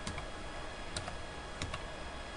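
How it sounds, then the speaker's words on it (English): Scattered clicks of typing on a computer keyboard, a handful of isolated key taps over a constant hiss of background noise, with no speech. "I'll have to type in Tengu."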